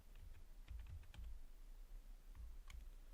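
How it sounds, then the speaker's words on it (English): Quiet, close keystrokes as a word is typed on a computer keyboard while writing CSS code, a few quick clusters of taps separated by a short pause, with no talk. "So here I'm going to type darken."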